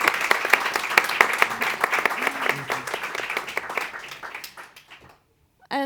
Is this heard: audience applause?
yes